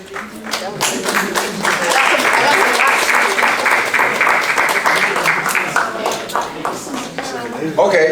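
Audience applause at a college athletics banquet and award ceremony, rising quickly into loud, sustained clapping from a crowd, with some voices mixed in before it thins out near the end.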